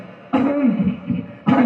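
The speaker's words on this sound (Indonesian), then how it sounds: "Balik lagi saya batuk-batuk." A man gives close, rough coughs, one burst and then another at the end, acting out coughing while telling a story in an Indonesian sermon.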